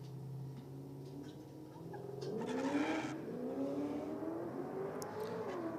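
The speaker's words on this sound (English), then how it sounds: "VX with a stout burnout. A couple of limiter tags there, just getting some heat into the tyres" A VX car at a drag race night roars through a stout burnout on the limiter, engine note climbing and wavering with tyre squeal over a loud, continuous crowd-and-track backdrop.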